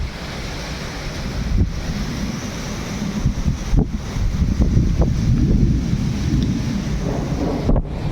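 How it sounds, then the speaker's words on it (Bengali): A morning storm brings strong gusting wind roaring steadily through trees, a continuous loud rush with buffeting bumps against the microphone and no talking. "ভালোই ঝড় হচ্ছে গাছ, ভালোই ঝড় হচ্ছে।"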